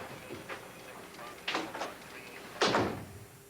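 An office door being closed, with a few soft shuffles and clicks followed by two firmer thuds as it swings shut and latches, fairly close, with no talking over it.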